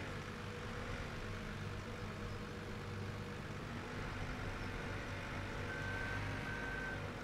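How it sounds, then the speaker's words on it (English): Bobcat loader backing up in Farming Simulator 17, faint reversing beeps over a steady idling engine drone, no speech. "So we'll use the Bobcat here to load it."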